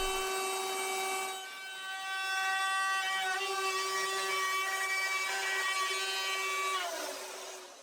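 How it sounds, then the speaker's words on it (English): Router fitted with a rabbeting bit cutting a rabbet into the back of a wooden cabinet for the back panel, a loud sustained high whine with a shifting grinding tone, easing off at the end. "I can now cut the rabbet in the back to accept the back panel, and I use my router with a rabbeting bit"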